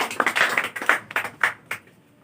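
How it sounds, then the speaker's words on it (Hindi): Applause for Aditya at a school gathering marking Abdul Kalam's birth anniversary: a loose scatter of sharp hand claps, fairly close and uneven in rhythm, thinning out and fading toward the end. "सबसे पहले एक जोरदार तालियां आदित्य"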